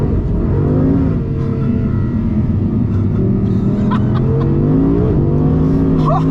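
A 2023 Audi R8 GT, rear-wheel drive with 620 horsepower, accelerates hard on track, its engine note climbing and dropping through gear changes, loud and close, with a brief voice in the background.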